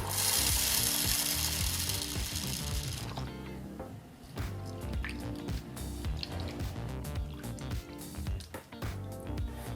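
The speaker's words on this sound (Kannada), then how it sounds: "ಎರಡು ಕಪ್ಪನ್ನ ಅಳತೆಯ ತೊಗರಿ ಬೇಳೆನ ನಾವು ಚೆನ್ನಾಗಿ ಒಮ್ಮೆ ತೊಳ್ಕೊಳ್ಳೋಣ" Two cups of toor dal (split pigeon peas) are washed in water: a rush of running water first, then wet sloshing, squishing and irregular clicks as the lentils are rubbed and swirled.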